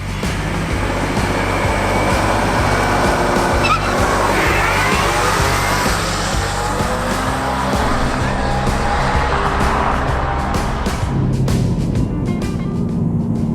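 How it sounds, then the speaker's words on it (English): A Ford Explorer ST launches hard from brake torque in a drag race, its engine a loud, sustained roar that surges up and carries for many seconds before thinning out near the end. "I'm gonna brake torque it to around 25, 26, 2700 RPM, and just kind of let it go"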